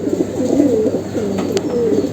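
Pigeon cooing from a young Army breed bird, a soft repeated series of low warbling coos close by, steady and clear without any talking.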